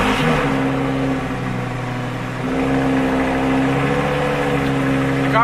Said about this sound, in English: The car is basically so loud when it starts up initially